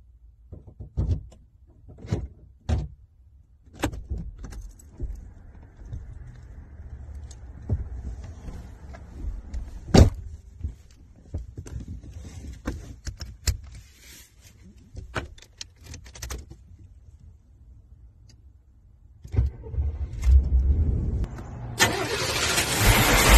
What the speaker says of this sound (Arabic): والآن نشغل السيارة ونسمع صوت المحرك.